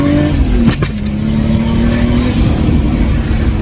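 Lexus IS200 fitted with a Supra 2JZ engine and big turbo, revving loud and close with a sharp blip early on before settling into a sustained steady engine drone.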